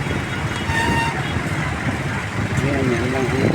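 Busy street traffic in Divisoria: a steady roar of passing cars and trucks with a brief horn toot, voices murmuring throughout.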